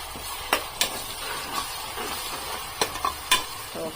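Ginger paste fries in hot oil while being stirred, a steady close sizzle broken by a few sharp spatters and spoon knocks against the pan.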